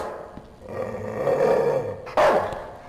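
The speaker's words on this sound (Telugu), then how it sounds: "మనిషి లాంటి కుక్క" A dog growls in the horror game Night People, a low rumbling snarl that swells over a couple of seconds before a sudden loud jump-scare burst.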